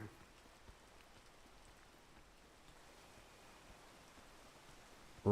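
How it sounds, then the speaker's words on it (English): Steady rain hisses in the video game Peak, an even wash of falling drops that stays constant and moderately quiet throughout, ending with a sudden louder burst at the very end. "Rain"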